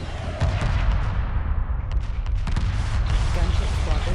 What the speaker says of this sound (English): there goes incoming torpedoes and missiles